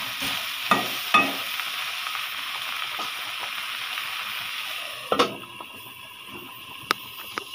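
Bitter gourd (karela) frying in a pan gives a steady loud sizzle, broken by a few scraping stirs and clatters of the utensil against the pan.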